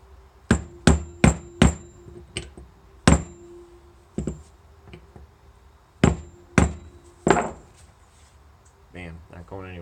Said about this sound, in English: You gotta peen your washer back over. Wood chisel works pretty good for that.